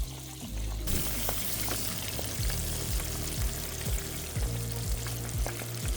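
Fish pieces for tacos frying in hot oil, a steady, close crackling sizzle with brief stirring and clattering on top, no voices.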